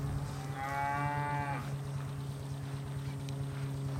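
Cattle, including a horned animal, moo once, loud and drawn out, against a constant low engine-like drone and background farm noise, with no talking.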